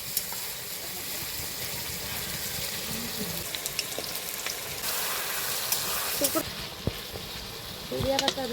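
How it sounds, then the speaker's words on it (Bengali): Eggplant fritters (begun sundori) frying in oil at a snack shop, a steady hiss and crackle with brief louder spells and occasional clinks, people talking over it. "এবার সেই দেখো বেগুন সুন্দরীটা রান্না করছে জেঠিমা, ভেজে নিচ্ছে সরি"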